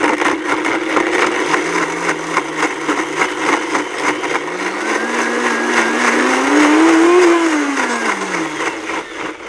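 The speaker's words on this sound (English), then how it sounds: "Even if you don't have a high-speed blender, maybe you've got a Ninja, you can just pop that on your Ninja." A Ninja blender grinds whole lemons, its motor whining loud and continuous, the pitch dipping then rising and falling as the blades chop through the fruit, with no talk over it.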